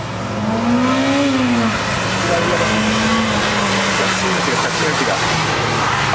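Toyota Celica ST202 accelerating hard on a gymkhana course, the engine note climbing and holding at high revs with a loud steady roar, while people talk over it.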